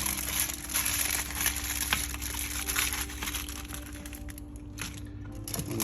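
Aluminium foil being wrapped around perch fillets, a steady close crinkling and crumpling that runs throughout with no talking.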